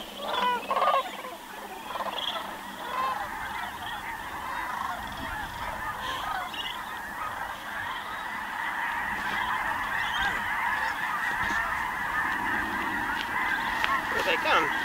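A large flock of geese honking continuously as they arrive at a pond at Bosque del Apache National Wildlife Refuge, a dense overlapping chorus of calls at moderate distance that stays steady and swells slightly.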